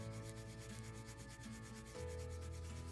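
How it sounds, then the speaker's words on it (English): Pigment being ground by hand for a self-portrait painting, a steady continuous rubbing and scraping that stays close and even throughout, with no voices. "So I'm really gonna grind some pigment in here,"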